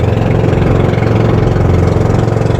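A small motorboat engine idles with a steady low rumble, holding an even throbbing drone throughout without any voices, in Batangas.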